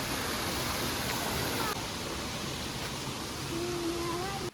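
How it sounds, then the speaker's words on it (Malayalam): A waterfall near a small stream where bottle traps are set for fish, giving a steady, loud broadband rush of falling water that continues unbroken throughout. "വെള്ളച്ചാട്ടം ഉണ്ടല്ലേ ഇപ്പൊ."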